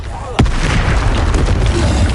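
A sharp spell blast goes off in the video game Hogwarts Legacy, one loud boom with a quick burst, followed by a dense rumbling crackle of magic effects.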